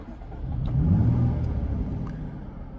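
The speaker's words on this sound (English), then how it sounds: "And that beautiful, satisfying exhaust rumble from the V6." Low exhaust rumble from a Jaguar F-Type V6 S swelling briefly then settling to a steady idle, close by with no voices.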